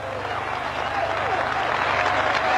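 Truck drivers applauding at a 1996 Danish export drivers' strike meeting in a freight terminal in Padborg, sustained dense clapping from a crowded room, loud and continuous with a faint murmur underneath.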